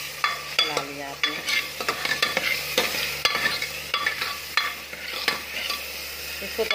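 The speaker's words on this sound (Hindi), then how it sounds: "इसको तब तक भूनना है जब तक आपकी प्याज हल्की सी ब्राउन कलर की ना हो जाए" Mutton and onions stirred and fried in a pan for a mutton curry: a steady sizzle with repeated sharp scrapes and clacks of a spoon against the pan, close and fairly loud, no talking.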